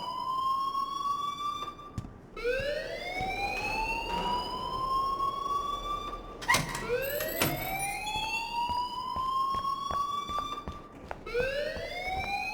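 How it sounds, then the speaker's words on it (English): Wailing electronic alarm in the Life is Strange video game, repeating rising sweeps that swell and fall in loud continuous cycles, with brief gaps and a short burst of extra noise midway. "please turn off that alarm since that's your job"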